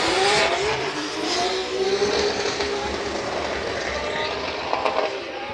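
A drift car at Fuji Speedway accelerates on full throttle, its engine roaring loud and sustained with a rising rasp, carried over ambient noise and the faint sound of a crowd.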